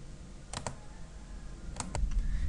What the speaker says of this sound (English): We just go ahead and type yes and hit enter.